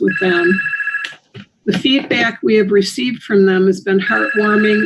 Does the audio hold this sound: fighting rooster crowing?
no